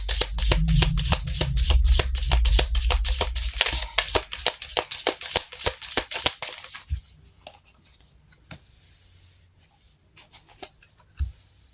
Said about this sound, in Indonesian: kita shuffle kartunya